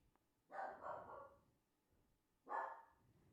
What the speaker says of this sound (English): Apologies for the barking.